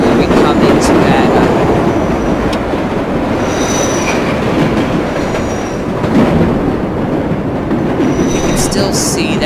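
A New York Flushing Line 7 subway train in World of Subways 4 rumbles loudly along the track, wheels clacking and squealing in bursts over a continuous heavy roar.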